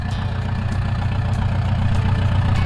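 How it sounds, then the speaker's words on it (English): A tractor engine runs steadily at a low idle, a loud close rumble with a fast even pulse and no other sounds. "The tractor's running great."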